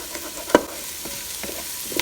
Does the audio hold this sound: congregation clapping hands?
no